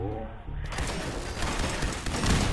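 Turret gunfire in Fallout 4 starts abruptly after a short pause, a dense rattling stream of rapid shots that keeps going steadily to the end, loud and sustained.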